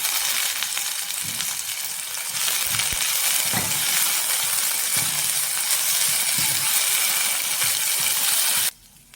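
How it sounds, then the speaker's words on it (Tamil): Moringa (drumstick) leaves sautéing in a pan for adai dosa batter, a steady loud sizzle and crackle of frying running without pause, then dropping away abruptly near the end. "முருங்கைக்கீரை சேர்த்து 2 நிமிஷம் வதக்கினா போதும்."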